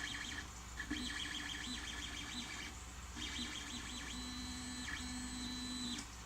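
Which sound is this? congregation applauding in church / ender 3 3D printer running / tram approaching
ender 3 3D printer running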